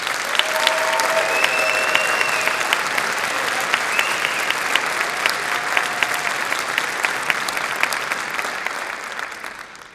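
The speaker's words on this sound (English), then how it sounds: "One more round of applause, please." A concert audience at a university wind ensemble's spring showcase applauds loudly and steadily, a dense wash of clapping that carries on for the whole stretch before starting to fade at the very end.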